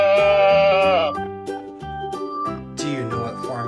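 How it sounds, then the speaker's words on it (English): A sheep bleats loudly and close, a wavering drawn-out cry followed by a few shorter calls, played as a farm animal sound from a children's toy. "It's a sheep."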